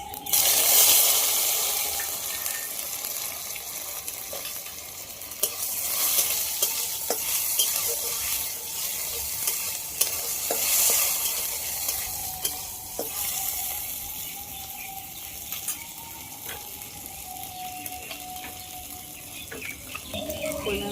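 Two whole dry red chillies and mustard seeds tempering in hot mustard oil, a loud, close sizzle with crackling pops and frequent stirring scrapes throughout, no speech.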